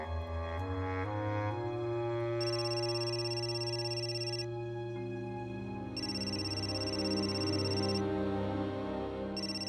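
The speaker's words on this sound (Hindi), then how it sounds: "किशोर, ताई का फोन है।" A mobile phone ringtone plays a looping tonal melody, with bright high beeps cutting in and out at regular intervals, loud and continuous.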